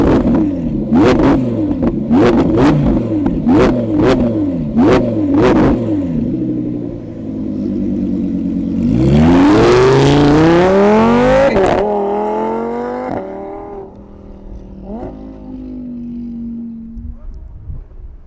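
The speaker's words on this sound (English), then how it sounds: "Let's open up this Valvetronic exhaust and hear this V10 roar." An Audi R8 V10 Performance with modifications and an open Valvetronic exhaust revs repeatedly in sharp, loud blips, then climbs into a long roaring rev that crackles and winds down, loud and close.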